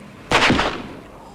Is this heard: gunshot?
yes